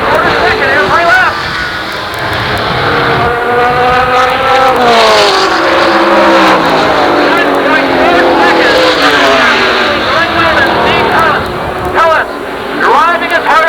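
Super late model race cars roar past at Jennerstown Speedway, loud engines rising and falling in pitch as they pass, under constant excited commentary.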